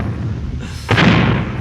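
A cannon fires in an old Three Stooges Civil War comedy, one sudden loud boom that cuts in after a short lull and rolls on with a rumbling, noisy decay.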